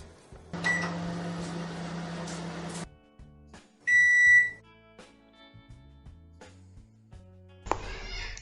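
A microwave oven running at full power with a mug cake inside hums steadily, then a door clunks, a bright beep sounds and the door opens again.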